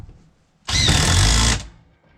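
Power tool tightening a bolt on a wood shed under repair: one loud, close, steady buzzing whir runs for about a second, then cuts off. Quiet surrounds it, and no one speaks.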